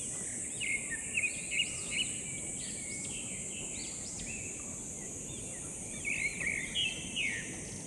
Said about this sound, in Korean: 새소리 이외에는 아무것도 안 들려.